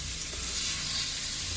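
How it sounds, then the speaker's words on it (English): Hot oil sizzles in a pan on high heat, a steady, fairly soft hiss that carries evenly with no pauses. "We got a nice sizzle going."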